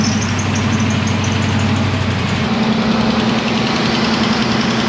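A Hemi engine in a Dodge Durango running steadily with a loud, continuous idle hum, the tone shifting partway through as the engine settles.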